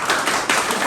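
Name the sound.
applause for a teacher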